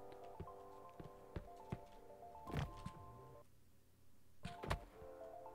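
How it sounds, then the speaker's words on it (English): A turret in a social deception first-person shooter whirs and hums with sustained mechanical tones, punctuated by sharp thunks and taps, then briefly drops quiet before more clunks sound at close range. "There's a turret going on."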